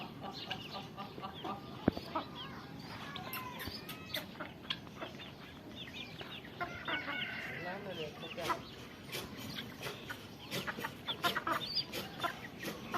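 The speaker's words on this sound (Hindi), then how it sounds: "ये मुर्गियों के साथ लड़ने के लिए जोर लगा रहा है" An agitated village rooster scuffles with hens, and they answer with repeated clucks and short squawks. The calls are close and irregular, with a steady farmyard background throughout.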